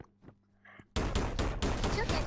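Rapid automatic gunfire in the Roblox shooter Energy Assault bursts in loud and dense after a quiet opening and keeps going in close, clattering volleys.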